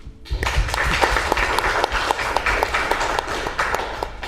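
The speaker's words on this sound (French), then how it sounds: "Vous pouvez vous applaudir" An audience at a Bitcoin mining talk applauds itself in a dense, continuous burst of clapping, loud and close, with individual sharp claps standing out through the steady roar.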